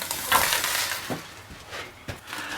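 Peppers for enchilada sauce being stirred and moved around a hot pan, giving scraping stirs and light sizzle in short irregular bursts, close and fairly loud.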